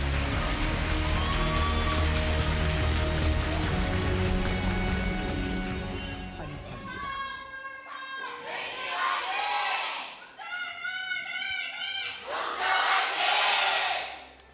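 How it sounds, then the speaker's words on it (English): A large esports crowd at an LCK League of Legends match between KT Rolster and Longzhu Gaming roars loudly, then the roar fades into bursts of shouting and chanting voices rising and falling. "Longzhu starting off with a louder cheer"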